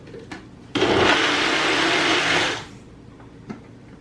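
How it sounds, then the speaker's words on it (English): A bullet-style personal blender whirs loudly for about two seconds blending a plant-based green smoothie, starting abruptly and winding down, with quiet clicks before and after. "if you have a really nice bigger blender, because you can see this is my bullet, it will blend up stuff a little better"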